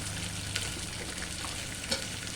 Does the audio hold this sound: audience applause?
no